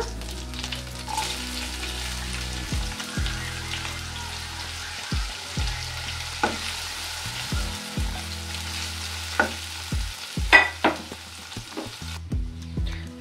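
Onion frying in a pan gives a continuous soft sizzle, with scattered stirring knocks and scrapes over several seconds, moderately close, with no speech.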